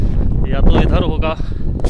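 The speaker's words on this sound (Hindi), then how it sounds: "एक तो हवा चल रही है बहुत ज़्यादा" Strong wind gusts across a hilltop fort, the birthplace of Maharana Pratap, buffeting the microphone with a loud, low rumbling roar while someone talks over it.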